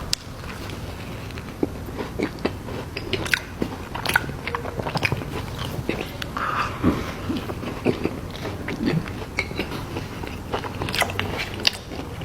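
Someone bites and chews a Crumbl raspberry butter cake cookie up close, with repeated soft crunchy bites and moist chewing in a steady, intimate rhythm and no talking.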